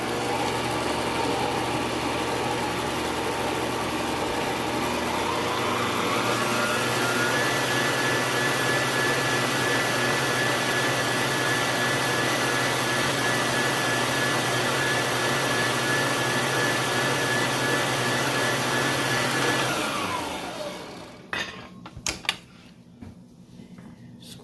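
An electric mixer beats sugar into cheesecake batter with a loud, steady motor whir that rises in pitch after a few seconds, runs on evenly, then winds down and stops with a few light clatters.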